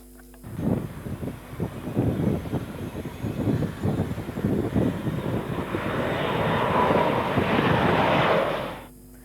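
A fixed-wing airplane engine roars steadily and fairly loud, swelling to a broad rushing drone toward the end, with wind noise on the microphone.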